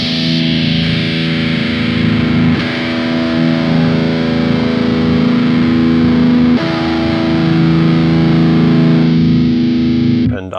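Electric guitar through a Korg Toneworks 104ds Hyper Distortion pedal with the mid control maxed, thick sustained distorted chords ringing loud and steady, with a couple of chord changes and no talking.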